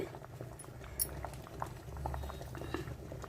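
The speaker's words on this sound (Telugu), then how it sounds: "కాసేపు మరగనిద్దాము" Andhra-style wedding sambar simmering in a pot, a low steady bubbling with small pops and patter, faint and close.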